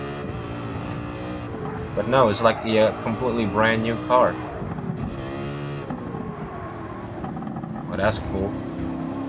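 A Ford Mustang race car in Gran Turismo 7 revs and shifts, its engine note rising and falling through several pulls while someone talks over it throughout.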